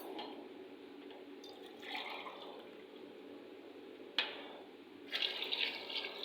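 Water is poured into a cooking pot while khichdi with chana dal is being made, a quiet splashing stream in a few short bursts, brief pours separated by pauses, with no talking.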